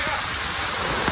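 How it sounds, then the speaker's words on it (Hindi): Heavy rain falls during a thunderstorm as a dense, continuous hiss, loud and even throughout the short stretch. "बारिश बहुत तेज हो रही है अभी"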